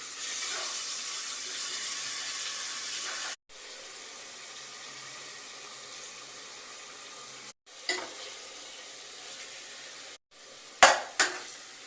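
Onions and tomatoes fry in a pan, giving a steady close hiss of sizzling, broken by brief pauses and a few sharp scraping clanks of a spatula stirring near the end.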